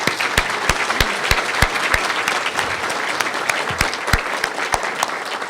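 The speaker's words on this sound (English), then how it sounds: "let's give both United and FedEx a round of applause" Audience applause at a speech by the O'Hare Modernization Program's executive director, sharp individual claps standing out over a steady wash of clapping, moderately loud and fairly close, with no talking.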